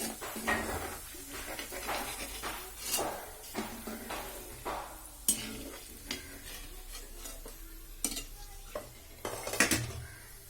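Pieces of elephant foot yam frying in oil over a medium flame, a steady soft sizzle broken by repeated clinks and scrapes of a utensil against the pan.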